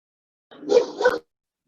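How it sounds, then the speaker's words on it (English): A dog barks twice in quick succession, two short close barks, clear and alone against silence. "excuse me, my dog's barking."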